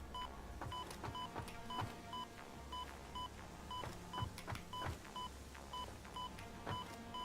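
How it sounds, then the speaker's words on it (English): Repeated electronic beeping from machinery in the factory-building game Satisfactory, a steady train of short tones at a regular interval over a low mechanical hum, with clicking transients scattered throughout. "all I'm going to get is just beeping, beeping, beeping"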